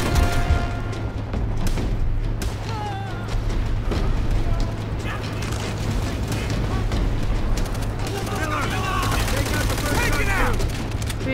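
Gunfire in the World War II shooter game Call of Duty: World at War, with dense overlapping bursts and booms in a constant battle din under a steady low hum, with scattered voices.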